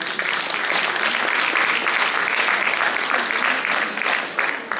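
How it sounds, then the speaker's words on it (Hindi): Enthusiastic audience applause at a Hindi Divas celebration, dense continuous clapping from a crowd that holds steady for several seconds. "एक बार हिंदी के लिए हिंदी दिवस पर जोरदार तालियां"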